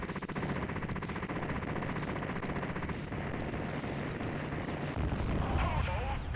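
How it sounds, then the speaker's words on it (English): A flamethrower fires in the arcade game Total Carnage, rattling out as continuous rapid machine-gun-like bursts that run loud and unbroken through the whole stretch, with a brief electronic game effect near the end. "I'm sure flamethrowers make noises like machine guns in real life."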